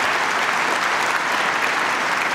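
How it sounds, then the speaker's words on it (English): Applause at an award ceremony, a dense, steady burst of many hands clapping from a seated crowd, loud and sustained throughout without any voices. "round of applause there"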